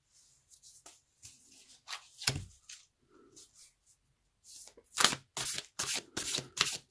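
Tarot cards being shuffled by hand, a run of crisp riffling and slapping bursts, sparse at first and then a dense, loud cluster of rapid riffles toward the end.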